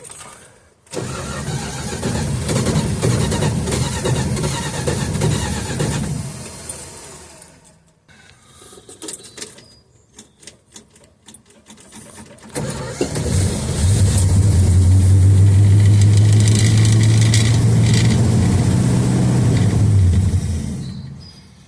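A 1969 Dodge Dart, sitting six months on old 10% ethanol gas and fed by gravity, cranks loudly, falls silent, sputters through a brief uneven attempt, then catches and runs with a strong steady engine drone.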